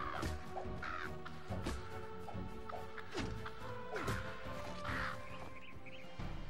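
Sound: crows cawing in the video game Palworld

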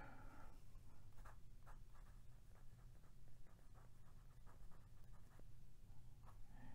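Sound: Pilot Custom 74 fountain pen writing, medium nib

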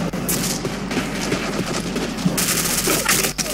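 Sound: gunfire in the video game Black Squad

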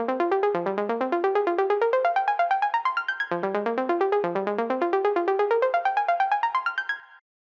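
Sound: high-low synth arp with wide octave range before the drop

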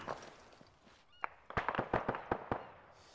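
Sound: frag grenade explosion in video game ARMA 3

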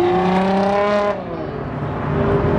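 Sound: Subaru WRX STI car driving past

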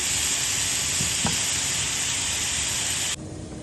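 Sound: red chili powder masala frying while being stirred

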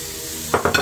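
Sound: food sizzling as it browns in a pan

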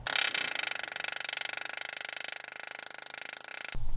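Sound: tapping copper into stainless steel pipe

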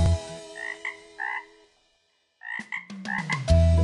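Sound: little green frog croaking

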